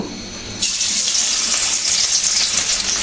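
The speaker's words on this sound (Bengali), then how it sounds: "মাছগুলো এক এক করে ভেজে নিচ্ছি" Rui fish dropped into hot oil in a wok, the quiet kitchen bursting into a loud, steady sizzle and crackle that carries on close by without any talking.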